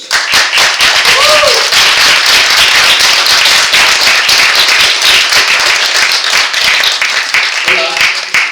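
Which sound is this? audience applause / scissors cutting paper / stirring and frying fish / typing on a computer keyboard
audience applause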